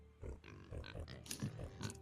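Pigs grunt and oink in a string of short, close calls, several overlapping across a couple of seconds at moderate volume, with no talk over them.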